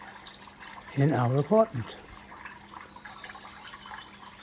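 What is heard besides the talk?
small indoor decorative waterfall running in an apartment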